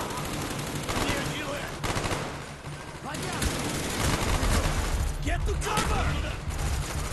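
Video game gunfire from Call of Duty Black Ops, with sustained bursts and rattling shots that carry on across the whole scene and a brief spoken line heard over the shooting.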